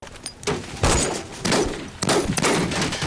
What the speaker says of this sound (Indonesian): Baku tembak pun terjadi lagi.